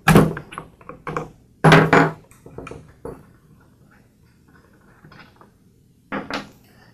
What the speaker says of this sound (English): So I'll start by removing the spark plug.